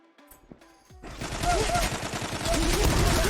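Rapid automatic gunfire in the online shooter Zula, a dense, loud stream of shots that starts abruptly after a quiet lead-in with a few faint clicks and keeps going steadily to the end.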